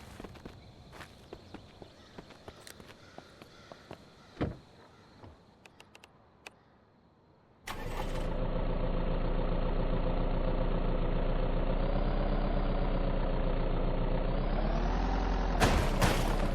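A truck engine in the zombie survival game Vein cranks and catches after quiet footsteps and small clicks, then runs loud and steady with a low rumble, its pitch rising slightly near the end before a sharp burst.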